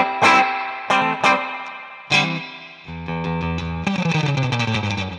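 Electric guitar through an IK Multimedia iRig Stomp I/O with a twangy, heavily effected surf tone: several plucked chords and notes ringing out, then sustained wobbling chords with chorus and reverb.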